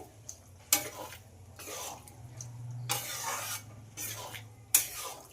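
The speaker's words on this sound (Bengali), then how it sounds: "ডালটা একটু মশলার সঙ্গে কষিয়ে নিতে হবে।" Boiled dal is stirred and cooked down with spices in a pan, heard as several separate scraping, rubbing strokes with short pauses between them, moderately close and without talk.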